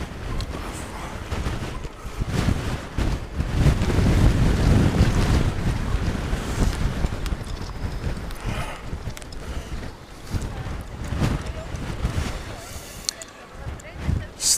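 Strong wind buffeting a microphone outdoors during a winter lights festival walk in Reykjavik, a loud continuous low roar that surges and eases, with a voice speaking faintly beneath it.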